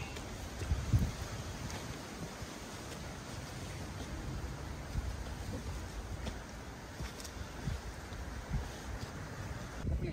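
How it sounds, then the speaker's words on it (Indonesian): Strong wind buffets the microphone on a mountain trail at night during a climb of Mount Raung, a continuous low rumbling roar with irregular gusts and no talking. "Angin kenceng banget, udah dingin."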